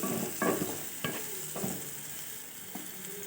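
Food sautéing in ghee in a pan for kalanthappam, a steady close sizzle broken by several scraping stirs of a spatula, with no voices.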